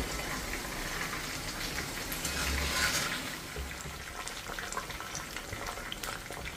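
Hot oil crackles and bubbles as mushroom 65 or thavala vadai deep-fries, a steady, dense sizzle at moderate volume with no talking.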